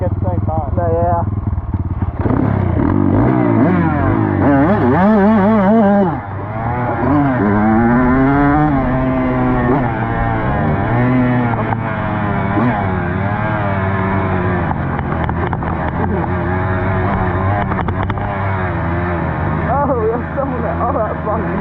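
Dirt bikes are ridden outdoors, their engines loud and close, revving repeatedly up and down in pitch with a brief dip partway through, then holding a sustained throaty drone.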